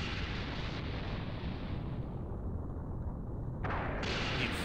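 An explosion in Dragon Ball Xenoverse 2 roars as a sustained, loud rumbling blast. It dims slightly midway, then swells again in a fresh burst near the end, with no talk over it.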